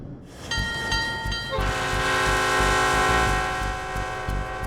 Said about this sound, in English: A train rumbles out of town, headed west.